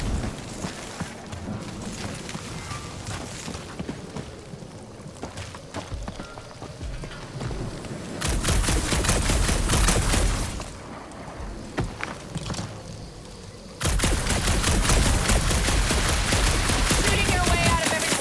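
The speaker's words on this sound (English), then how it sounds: "Shooting your way out of every problem again" Sustained automatic gunfire in Marvel's Guardians of the Galaxy comes in two long, loud rattling bursts, separated and preceded by quieter stretches of scattered shots and background noise.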